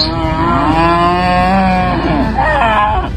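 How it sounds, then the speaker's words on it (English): Maiden heifers moo loudly and close by in a farm shed: one long drawn-out call followed by overlapping shorter moos from several animals. "In with the maiden heifers."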